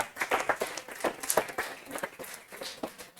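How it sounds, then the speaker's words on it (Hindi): A small group claps for a student's result in a mock exam class at a defence academy. The claps are scattered and uneven, rising and falling in quick bursts at moderate volume. "जोरदार तालियां"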